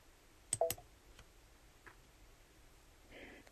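Two sharp computer mouse clicks close together, crisp and near, followed by a softer faint click and low rustle in a quiet room while working in embroidery design software.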